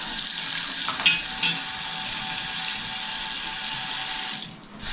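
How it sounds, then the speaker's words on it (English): Water gushes steadily from a newly plumbed tap inside a village house, a loud, continuous hiss with strong pressure that runs almost unbroken and then briefly dips near the end. "And now we have water running in the house."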